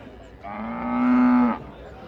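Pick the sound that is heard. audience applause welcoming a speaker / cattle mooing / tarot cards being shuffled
cattle mooing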